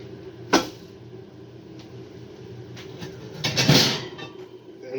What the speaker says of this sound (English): get my frying pan out